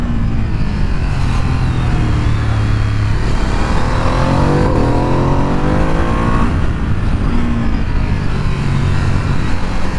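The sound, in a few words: Ducati Streetfighter V2 motorcycle being ridden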